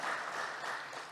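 Steady applause from an audience at a capital market anniversary event in Indonesia, a dense continuous wash of clapping at moderate level with no voices on top.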